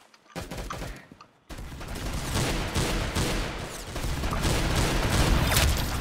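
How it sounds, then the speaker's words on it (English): Rapid shotgun fire from Roblox Arsenal gameplay, a dense fusillade of loud, overlapping blasts that starts after a brief pause and continues steadily with heavy booming impacts, close and continuous with no talk. "Isn't this like the shotgun that goes for miles?"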